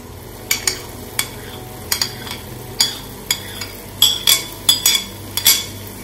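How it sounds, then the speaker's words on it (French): Garlic mixture stirred in a cooking pot for Moroccan-style mallow, a soft simmering sizzle under a dozen or so sharp spoon scrapes and clinks against the pot in an uneven rhythm, nearby and fairly loud. "Il faut bien mélanger."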